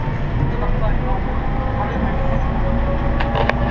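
A Seoul subway train rides along with a steady loud rumble and rolling rail noise inside the car, with faint high squeals near the end.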